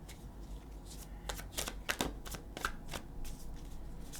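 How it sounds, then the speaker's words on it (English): Tarot cards being shuffled by hand in a quiet room, a run of crisp riffling flicks and soft slaps close up, irregular bursts over a low steady hum, with no voices. "I'm shuffling again."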